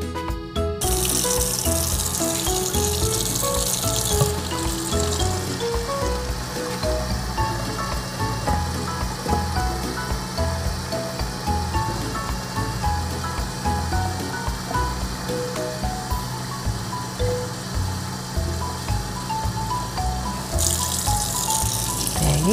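Tap water runs steadily into a bottle, filling it with 32 ounces of water for a homemade Clorox bleach disinfectant spray. The rush is continuous and close for the whole stretch, with tonal background sound beneath it.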